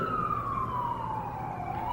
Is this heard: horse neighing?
no